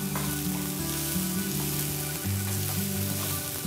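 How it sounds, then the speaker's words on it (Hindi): Chopped onions sauté on high flame in a pan, giving a loud, continuous close sizzle and crackle with a few stirring scrapes and no talk. "ये अच्छे से अनियन हमारे सॉटे हो चुके हैं।"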